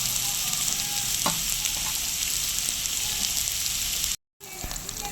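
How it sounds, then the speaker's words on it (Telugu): Chicken pieces and capsicum frying in a pan for pepper chicken, with a steady, close, continuous sizzle and a few light stirring clinks, with no talk. "ఈ విధంగా ఫ్రై అవ్వాలి"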